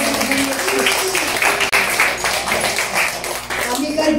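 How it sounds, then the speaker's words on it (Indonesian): Audience applause at a Catholic church recollection gathering in Las Vegas, a steady patter of many hands clapping throughout, fairly close and loud, with voices mixed in. "Ya boleh tepuk tangan."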